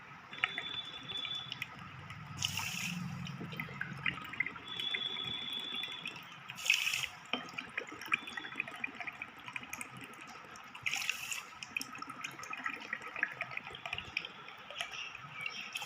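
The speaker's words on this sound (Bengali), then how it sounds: "এবার এই কাপে আমি 4 কাপ জল দেবো।" Water poured from a tea cup into a pot for making sugar syrup, a soft faint trickle with light drips and splashes, no voices.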